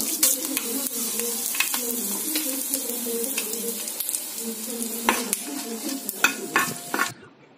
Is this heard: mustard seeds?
yes